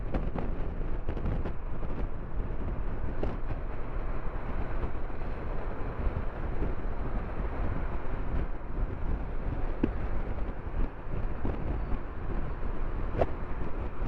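Steady, loud wind buffeting the microphone while riding a 2023 Honda NC750X DCT motorcycle, a continuous broadband roar with no clear breaks and no talk.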